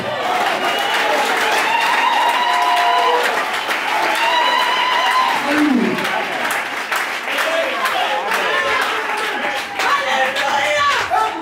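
Church congregation in Côte d'Ivoire applauding and cheering during a sermon, a loud, sustained wash of clapping and crowd voices that swells and holds throughout.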